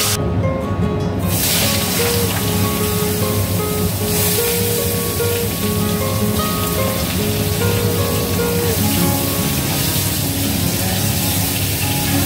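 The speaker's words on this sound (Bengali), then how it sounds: "একদম কিন্তু ধীরে ধীরে ধীরে ধীরে বৃষ্টি পড়ছে" Light rain falls steadily nearby, a continuous soft patter and hiss on surfaces that holds an even level throughout.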